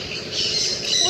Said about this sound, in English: Where is the parrot going?